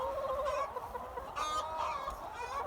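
Laying hens cluck and chatter steadily on a farm, a dense, close flock murmur with repeated clucks rising over it.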